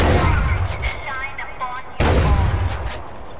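Gunshots in the video game Far Cry 4, loud booming blasts with a sharp hit near the middle and rumbling echoes, mixed with other in-game noise throughout.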